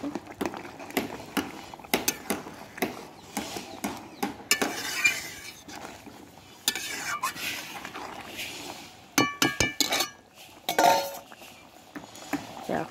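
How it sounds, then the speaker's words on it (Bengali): A spoon stirs chicken curry in a pot, with repeated scraping and clinking of metal against the pot in uneven strokes, quiet and close, with occasional louder knocks and no talk over it. "একটু ঘেটে নেব।"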